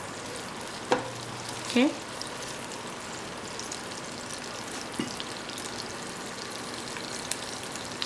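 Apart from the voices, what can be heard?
ginger and garlic frying in hot oil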